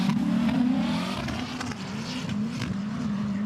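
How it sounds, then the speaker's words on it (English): A drift car's engine revs hard through a drifting run in a Drifting Cup qualifying at the FIA Motorsport Games, a loud sustained engine drone with rising and falling pitch as the car flicks side to side. "flicks the car one side, back to the other."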